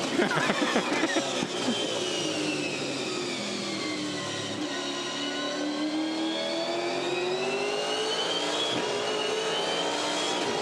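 Loud, howling V8 Supercars engines, Holden and Ford, roar past in a dense blur at Ipswich, revs rising and falling as several cars sweep by close at high speed.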